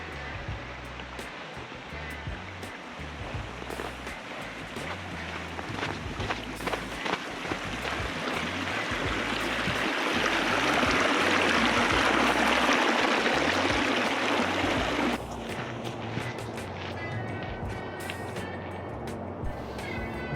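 Water in Davis Creek, Washoe Valley, Nevada, rushes and splashes steadily over rocks close by on the first day of winter. The flow swells louder midway, then eases back.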